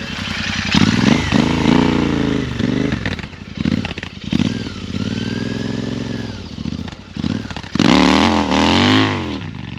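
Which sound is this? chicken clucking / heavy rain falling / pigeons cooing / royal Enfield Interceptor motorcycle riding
royal Enfield Interceptor motorcycle riding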